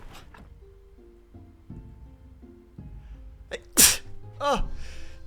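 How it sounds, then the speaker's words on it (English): Several sneezes from a VTuber, sharp and close, coming in quick succession near the end amid quieter background sounds. "More sneezes."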